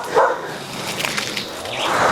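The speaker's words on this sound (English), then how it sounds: "She knows somebody coming when she hears Puppy start to bark." A household dog named Puppy lets out a couple of short, fairly close barks and whimpery yelps, acting as a visitor alarm, over a soft indoor background with no talking.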